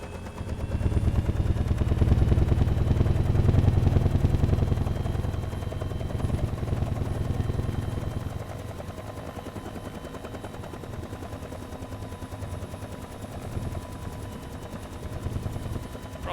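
A helicopter engine spools up as throttle and collective are applied, a loud rapid rotor chop and engine drone building and holding for several seconds, then easing to a steadier, lower thrum with a faint high whine throughout.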